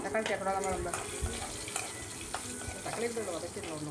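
Shallots, black pepper and curry leaves frying in a pan for pirandai kuzhambu; a soft, crackling sizzle with occasional stirring clicks continues while a voice talks over it.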